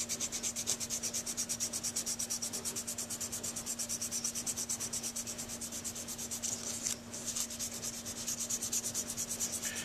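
A Dukoff saxophone mouthpiece is rubbed on 300-grit sandpaper in quick, even back-and-forth strokes, a close, steady rasping with one brief pause near the end.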